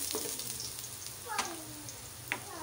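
Garlic, seafood and mixed vegetables sauté in a pan with a soft steady sizzle, broken by three sharp metallic clinks of a utensil against the pan.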